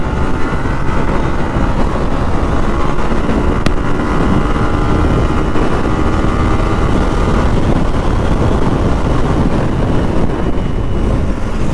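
Yamaha R15 V3 motorcycle filtering through traffic, its engine droning steadily with heavy wind buffeting over the microphone, continuous and close for the whole stretch.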